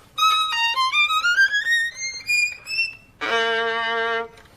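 Solo violin passage in a Saint-Georges style, a line of bowed notes gliding and stepping steadily upward along the fingerboard, then a sudden drop to a low, sustained held note. Close and clear, with no voices.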